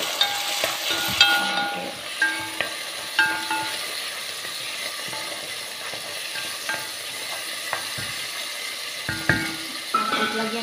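Chicken breast fries in a pan for moloukhia with a steady sizzle, broken by scraping stirs and metallic clinks of utensil against pan. One brief spoken word is heard.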